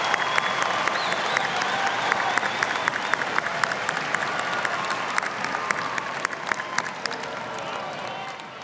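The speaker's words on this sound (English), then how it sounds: "Please join me in applauding all of these graduates for their academic accomplishments." An audience at a spring university commencement ceremony applauds its graduates with steady, dense clapping that holds for several seconds and then begins to thin out.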